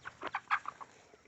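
Several short clucks from backyard chickens, close by and fairly quiet, in a quick uneven series with no talking.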